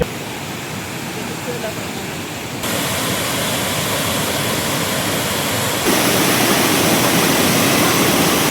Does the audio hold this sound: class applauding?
no